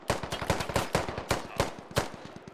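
Rapid bursts of automatic gunfire in the military shooter Squad, with around ten sharp, evenly spaced loud cracks coming in quick clusters, close and clear.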